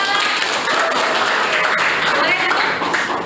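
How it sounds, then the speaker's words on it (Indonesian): Students in a classroom applaud a group, a dense, steady round of clapping throughout, loud and close, with some voices underneath. "tepuk tangan dulu untuk kelompok 2"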